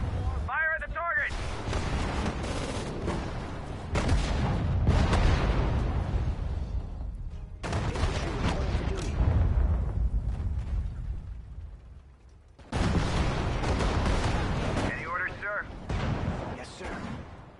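Artillery firing at a target in a war video game, with heavy booming blasts in several bursts separated by short gaps and voices calling out between them.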